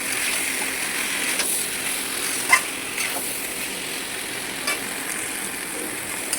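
Potatoes and egg stirred in a hot pan, a steady broad sizzle with a few soft scrapes and clicks of the spoon, no voices.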